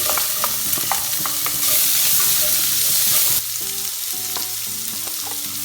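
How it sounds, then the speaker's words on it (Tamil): Mustard seeds, cumin, fennel, fenugreek and onion sizzle loudly in hot oil, a steady close frying hiss with scattered pops and the scrape of stirring, and no voices. "எண்ணெய் கொஞ்சம் ஊற்றிக்கலாம். கொஞ்சம் கடுகு, சீரகம், சோம்பு, கொஞ்சம் வெந்தயம், வெங்காயம் போட்டுக்கலாம்."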